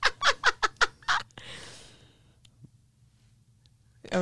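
A person imitates a small bird with a quick series of five or six sharp chirps, followed by a breathy exhale and quiet room tone.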